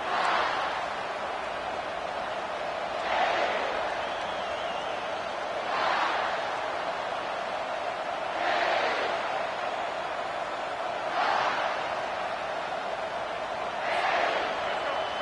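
A football stadium crowd at a Memphis at South Carolina game roars against the offense after a touchback, a steady loud wash of noise with periodic swells, heard under a commentator's voice.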